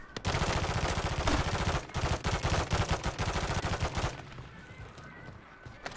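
Rapid automatic gunfire in the Call of Duty video game, a dense crackling burst of repeated shots lasting about four seconds before cutting off to quieter background game noise.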